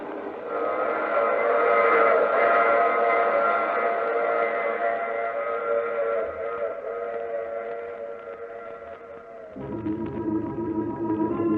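A train rumbles away with a sustained, droning whistle-like tone that shifts near the end, fairly loud and steady.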